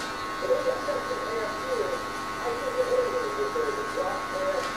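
Electric hair clippers with an adjustable lever hum steadily while fading a low taper haircut. The close, continuous buzz has slight wavering as the clippers move, with a voice talking over it.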